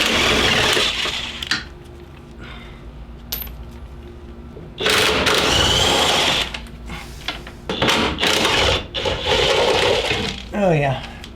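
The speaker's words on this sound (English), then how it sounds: "using a 18 millimeter socket. Got my DeWalt impact here." A DeWalt impact wrench fitted with an 18 mm socket works on fuel tank bolts under a 1999-2004 Jeep Grand Cherokee WJ, giving loud bursts of rattling hammering broken by pauses, with a person talking in between.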